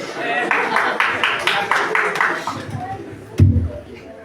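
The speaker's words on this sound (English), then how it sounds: "A big round of applause for this." Audience clapping in rhythmic bursts, several distinct claps in a steady beat over a murmur of voices, ending with a louder thump near the end.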